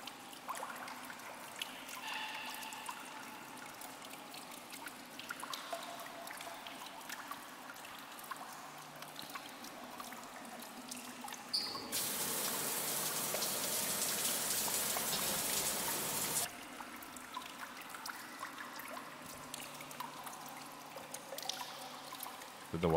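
Water pours into a bath in the indie horror game The Bathhouse: a faint, quiet trickle under soft room ambience that turns into a louder, broad rushing pour for several seconds midway before easing back to a gentle dribble.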